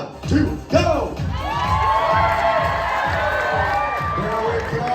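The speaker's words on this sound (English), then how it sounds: "Cheer them on as they go to the top and all the way back down" A crowd at a lumberjack show in Ketchikan, Alaska, cheers and shouts as climbers race up and down poles, with loud whoops at the start and then a steady roar of voices throughout.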